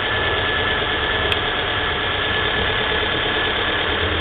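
A cold Volvo V40 engine idles steadily, a continuous close mechanical rumble with a faint ticking knock running through it and no voices over it.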